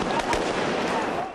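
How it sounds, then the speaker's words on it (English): Explosions echo down a street during a protest, a couple of sharp bangs ringing over a noisy crowd wash, brief and fairly distant. "explosions echoed down the street"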